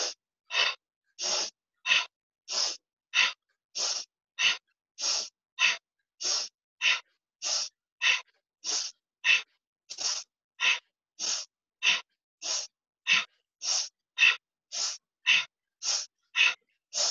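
Powerful, rapid rhythmic breathing during a Kundalini yoga exercise: sharp, forceful nasal breaths repeat steadily about every 0.65 seconds for many cycles, close and prominent with no talking.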